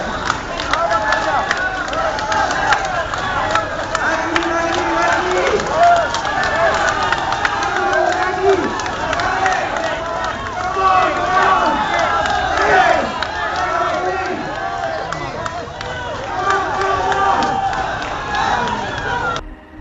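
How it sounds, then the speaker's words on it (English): A large crowd cheering and shouting together in a continuous loud roar of many voices that carries on throughout. "the crowd erupted with cheers, though many remained too stunned to speak"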